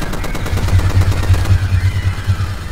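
Rapid automatic gunfire in the video game Death Toll on Expert difficulty, a fast continuous burst of heavy, close shots with a rattling rhythm, loud and dominant.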